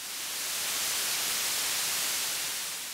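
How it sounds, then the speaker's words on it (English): Synthesized blue noise, a filtered hiss with the low end cut away, sounds as a bright, steady, uniform sizzle held constantly for about three seconds with no variation. "Blue noise is often likened to the type of hiss you hear from normal analog electronics."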